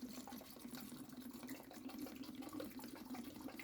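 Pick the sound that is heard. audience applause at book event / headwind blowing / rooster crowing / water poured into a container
water poured into a container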